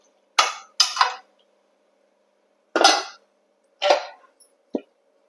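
Boti mutton gravy is stirred in a metal pot, with a handful of short clanking, scraping strokes in uneven bursts separated by brief silences, close and fairly loud.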